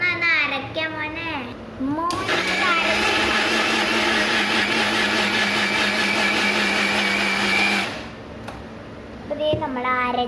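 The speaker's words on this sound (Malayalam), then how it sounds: "കുതിർക്കാൻ വെച്ച ആ ഡേറ്റ്സ് നമ്മൾ മിക്സി ജാർക്ക് ഇട്ട് കൊടുക്കുക" A mixer grinder whirs loudly for about six seconds as it blends soaked dates with their soaking water in a closed jar. A voice speaks just before it starts and again after it stops.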